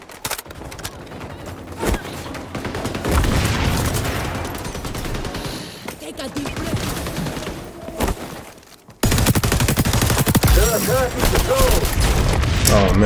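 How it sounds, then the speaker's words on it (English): Sustained gunfire and booming explosions fill a match of the shooter game XDefiant, dense and loud throughout, with a brief drop near the middle before the din resumes at full strength. "Shots."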